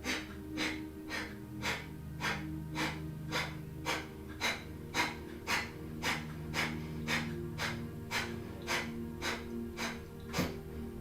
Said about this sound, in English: here we go, our Kapalabhati breath